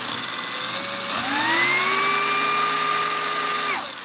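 A rebuilt electric motor idles with a thin whine, then spins up sharply to a steady, piercing high-RPM scream with bright harmonics, holding close and loud before cutting off abruptly near the end.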